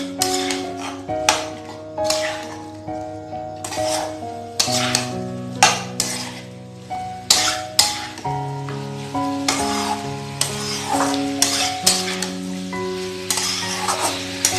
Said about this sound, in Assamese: গাহৰি মাংসখিনি ভালকৈ মছলাৰ লগত ভাজি ল'ব লাগিব